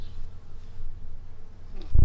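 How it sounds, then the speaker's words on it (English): A hummingbird darting past in a garden full of sunflowers and busy bees, a faint whirring buzz of wings that wavers briefly before a louder bump cuts in. "Did you see that hummingbird zoom by?"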